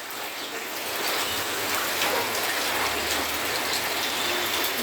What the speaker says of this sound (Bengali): মুষলধারে বৃষ্টি হয়েই চলেছে বাংলাদেশে।